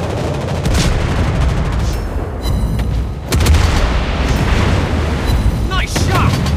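Naval gunfire in the World of Warships video game: repeated loud, deep booms and rumbling salvos fill the whole stretch, with a brief quieter gap partway through.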